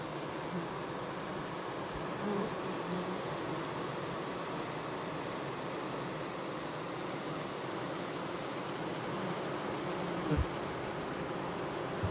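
Honeybees fan their wings at the hive entrance to ventilate it, making a dense, continuous buzzing hum heard close up, steady throughout with no talking.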